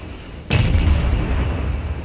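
Naval guns of a World of Warships Omaha-class cruiser fire a full salvo: one sudden loud boom, then a heavy rumbling roar that lingers for the rest of the moment, with no talking.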